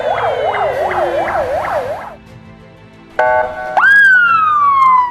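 A loud civil defense assembly alarm siren sounds during a preparedness drill in Julfa. First comes a rapid rising-and-falling wail, then a brief pause, then a steady, sustained high tone.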